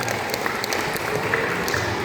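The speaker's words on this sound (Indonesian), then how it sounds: "Boleh tepuk tangan untuk seluruh orang tua yang hadir pada hari ini." Applause from parents and guests at a Quran memorization graduation and farewell ceremony in Murung Raya, a steady wash of many hands clapping at moderate distance, filling the moment without speech.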